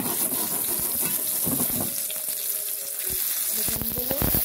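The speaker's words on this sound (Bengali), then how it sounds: "এখন একটা ভাজার জন্য ফ্রাই প্যানের মধ্যে দিয়ে দিচ্ছি।" Spice-stuffed eggplants sizzling in a frying pan, a loud bubbling hiss mixed with running-water-like noise and some clatter, steady throughout.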